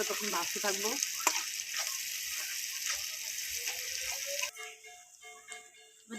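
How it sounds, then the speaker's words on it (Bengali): Chopped onion sizzles and fries in a pan of oil for paneer chana masala, a steady broadband hiss with occasional stirring scrapes that cuts off and drops to quieter clinks near the end. "এবার দিয়ে দেবো কুচানো পেঁয়াজটা পেঁয়াজটা যতক্ষণ লাল লাল করে না হচ্ছে"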